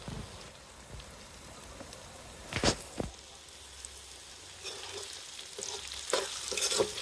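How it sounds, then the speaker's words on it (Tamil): Small onions and dried red chillies sauté in hot oil for a village-style chilli chicken fry, giving a soft continuous sizzle with occasional scraping stirs of a spoon, close and fairly quiet. "இப்போ சின்ன வெங்காயம் வரமிளகாயும் நல்லா எண்ணெயில் வதங்கிருச்சுங்க."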